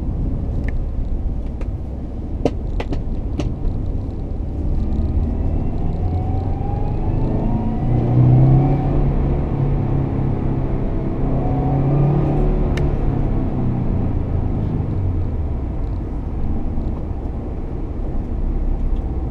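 Subaru WRX car engine rumbling steadily at close range, with a gentle rise and fall in revs and a few brief clicks, no one talking.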